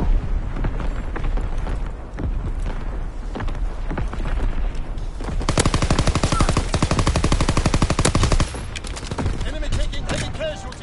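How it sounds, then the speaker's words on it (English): Rapid bursts of video-game gunfire and explosions rattle loudly and continuously through a battle scene, with the firing thickening into a dense fusillade midway before easing slightly. "Firing for full effect."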